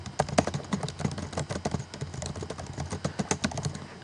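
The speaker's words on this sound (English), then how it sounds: "So I'm going to type that in here." Someone types on a computer keyboard. Close, fairly quiet keystrokes come in a steady, slightly irregular patter that runs the whole time with no talking.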